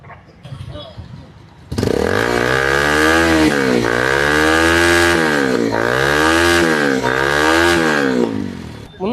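A motorcycle fitted with a modified silencer starts abruptly and is revved repeatedly, its loud, throaty exhaust rising and falling in several swells before cutting off, with a voice briefly heard before it starts.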